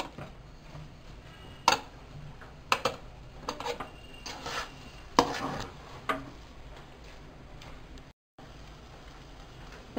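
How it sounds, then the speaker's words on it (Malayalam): Spoon stirring rava (semolina) in a pan for rava upma: soft scraping and occasional sharp taps against the pan, close but quiet, over a low steady background hiss, with no talk. "ഇപ്പം നമ്മൾ നന്നായി ഇളക്കി കൊടുത്തു."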